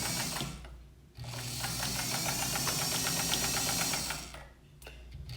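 A Necchi BCJ sewing machine stitches with silk thread in a steady, fast mechanical run that stops briefly near the end, close and loud with no talk.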